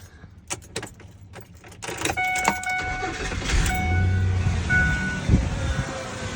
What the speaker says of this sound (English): So I'm getting ready to fire the vehicle up.